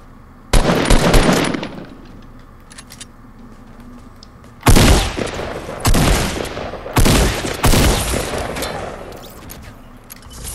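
Fortnite gunfire crackles in three loud rapid bursts, one short and two longer, separated by quiet gaps.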